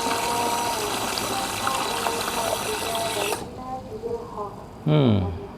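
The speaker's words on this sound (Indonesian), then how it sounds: "Kenceng banget tuh airnya. Apakah pompa akan cetak-cetok?" Water gushes strongly from a pump, a steady loud broadband rush that cuts off abruptly partway, leaving quieter sounds and a brief pitched sweep near the end.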